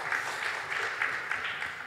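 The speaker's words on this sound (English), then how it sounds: "Applause for Bernard, yeah." Audience applause at a talk on Bitcoin payment services, a steady wash of clapping with no voices, holding at an even level for the whole two seconds.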